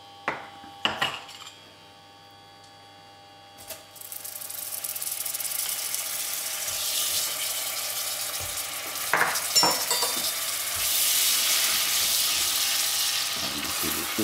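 Butter hits bubbling caramel in a pan for an upside-down apple cake and sets off a loud, steady sizzle that keeps building, after a few spoon clinks and stirring taps near the start.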